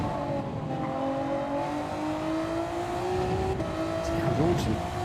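A Gr-class race car engine in Gran Turismo 7, revving and climbing in pitch with a smooth sustained whine, loud and close, while a voice talks faintly underneath.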